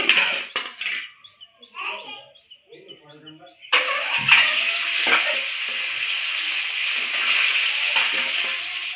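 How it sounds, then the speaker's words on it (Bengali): Boiled duck eggs go into hot oil in a wok, bursting into a loud, continuous sizzle partway through after a quieter start with scattered clatter and a voice. "কড়াই গরম হয়ে গেছে, এবার তেল দিয়ে ডিমগুলোকে ভেজে নেব।"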